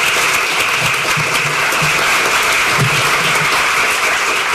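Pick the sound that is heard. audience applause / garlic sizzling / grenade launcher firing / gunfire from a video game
audience applause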